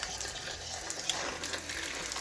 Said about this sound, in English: Just wait until all of them are dry and then rinse it with water.